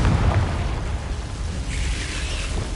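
A fiery Confringo spell blast from the Hogwarts Legacy game bursts with a low rumbling boom at the start, then settles into a sustained roar of crackling debris and flame.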